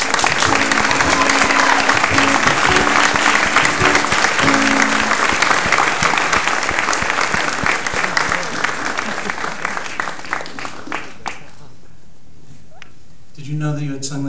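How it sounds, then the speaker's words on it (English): Loud crowd applause at a music release event, a thick continuous roar of clapping that fades over the last few seconds before a voice begins speaking. "Would you please applaud her?"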